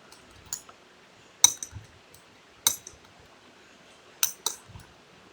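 A spoon mixes sprout chaat with coriander leaves, salt and chaat masala in a bowl, making a few sharp, spaced clinks and taps against the bowl over a quiet background.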